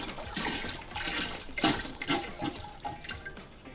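Chicken broth pours and splashes into a pot in steady gushes, with sloshing and gurgling, close and moderately loud.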